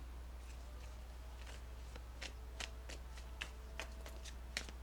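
Tarot cards being shuffled by hand, a run of soft papery riffles and taps that grow more distinct toward the end, close and quiet over a steady low hum, with no talking.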